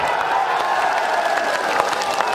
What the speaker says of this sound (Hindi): ठोको ठोको ताली ठोको टिका के